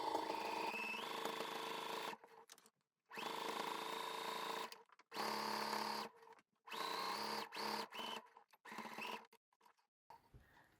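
A sewing machine stitches along the lower edge of a trouser waistband in several quick bursts of rapid whirring, each separated by brief silent pauses.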